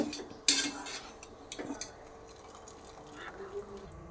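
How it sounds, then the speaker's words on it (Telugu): Cooked rice scooped with a metal slotted ladle into a bowl: a sharp metallic clink followed by soft scraping and light clatter, fairly quiet, with a faint voice in the background. "మనము ఇలా జల్లిగంటతోని ఉడికిన అన్నాన్ని ఒక బౌల్లో తీసుకోవాలి."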